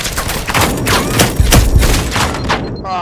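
A grenade explosion in Firewall Zero Hour, a loud close burst with deep thuds that comes amid rapid bursts of gunfire across a few seconds.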